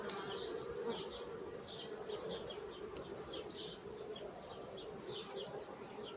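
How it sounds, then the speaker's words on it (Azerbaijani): Honeybees buzz inside an opened hive during a formic acid mite treatment, a steady dense hum with a broad low drone close by, continuous throughout with small rising whines from individual bees. "Arılar dərhal aşağıya getdilər."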